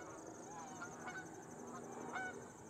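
Geese honk several times out in the open, the calls fairly distant and faint over a steady background hiss and breeze.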